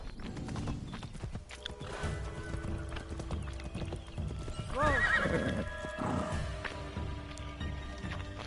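Horse hooves clip-clop steadily as a rider gallops through Assassin's Creed Shadows, with a clear neigh rising around the midpoint over a bed of game music and ambience.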